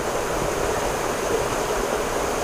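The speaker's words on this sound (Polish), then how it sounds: "Jesteśmy przy wodospadzie" Steady, dense roar of rushing water from El Nicho waterfall in Cuba, constant and full throughout with no other sounds.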